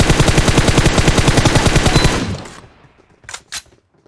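Sustained automatic gunfire in Battlegrounds Mobile India, a loud, dense rapid-fire stream for about two seconds that cuts off and fades, followed by two brief sharp sounds.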